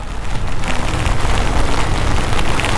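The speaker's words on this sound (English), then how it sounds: "look at this gust, like super powerful rain" Heavy monsoon rain roars steadily and close, a dense unbroken wash of noise with no voices, on a motorcycle ride from Mangalore to Kudremukh.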